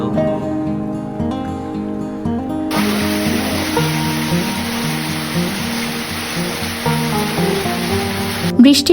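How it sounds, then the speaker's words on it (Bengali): Rain falls steadily in the Darjeeling hills, a dense continuous wash of water noise close by, with a faint tonal hum in the first seconds and a brief clatter near the end. "আজ আপনাদের জন্য খানিক বৃষ্টি পাঠালাম"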